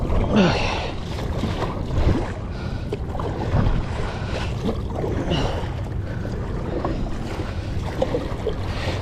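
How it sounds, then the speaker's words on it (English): Kayak paddle strokes splashing in open water off Anacortes, a series of soft irregular dips and swishes with wind and light wave wash around, fairly quiet and close, no talking. "I keep digging my paddle on the side"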